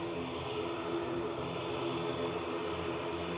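A propeller aircraft's engine drones at Manchester Airport, a steady, unbroken roar at moderate distance holding the same level throughout with no voices over it.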